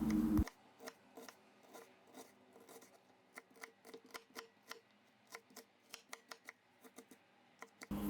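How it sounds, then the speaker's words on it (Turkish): A knife chops a large dry onion on a cutting board in quick, steady, rhythmic taps, close and fairly quiet, with no talking. "İş harcımız için bir adet büyük boy kuru soğanı yemeklik olacak şekilde doğruyorum."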